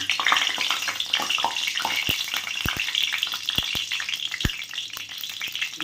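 Ghee hitting hot white oil in a kadai, a continuous crackling sizzle with scattered sharp pops and spits, close and fairly loud, no voices.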